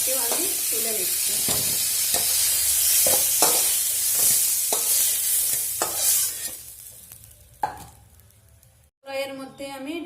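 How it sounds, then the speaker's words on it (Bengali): Pointed gourd and teasel gourd fry in a pan with salt and turmeric, a loud, continuous sizzle broken by stirring scrapes. The sizzle fades to near silence toward the end. "আমি পটল আর কাঁকরোল গুলোকে ভেজে নেব"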